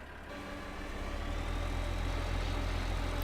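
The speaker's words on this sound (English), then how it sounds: "I guess this little tractor has enough power to go ahead and pull this drill." A small tractor engine in Farming Simulator 15 pulls a seed drill, a steady low rumble that swells slightly and then holds at a constant drone.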